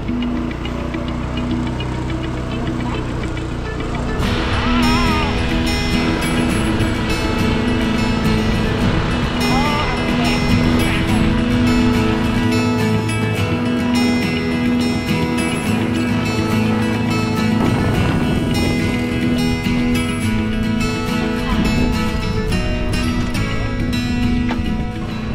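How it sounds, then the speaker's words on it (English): A small scooter rides along a road on Koh Samet island, its engine buzzing and droning steadily, loud and close, with wind and road noise around it and brief bits of talk over it. "We will hop on our little scooter and straight to the south."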